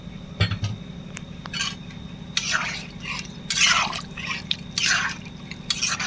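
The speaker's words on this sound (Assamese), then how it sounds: "এতিয়া ইয়াত মই জোখমতে গৰম পানী দিলোঁ" Hot water splashes and pours in several short gushes into a metal pot of local chicken curry, with clinks and drips between pours over a steady low hum.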